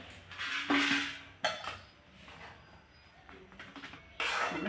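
Ghee-rich coconut sweet (koprapak) is scraped out of a pan onto a greased dish, with several close metallic scrapes and clanks of utensil on cookware spaced through a quiet kitchen, no talking.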